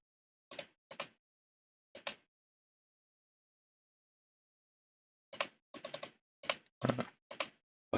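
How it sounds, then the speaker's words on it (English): Sharp, crisp mouse clicks sound close and isolated: three quick ones, a long silence, then a rapid cluster of about eight more, with no talking. "we right click on the art itself and we can set as cover"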